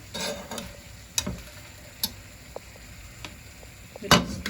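Sliced onions fry gently over low heat in a pot with a soft, steady sizzle. Sharp spatula clicks and taps against the pan come at irregular intervals, with no one talking.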